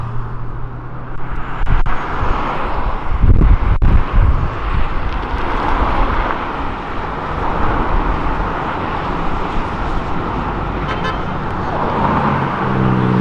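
Traffic on a nearby road as cars leave an event, accelerating onto the road, engines rumbling and passing steadily, a brief horn toot, and a constant roadway roar.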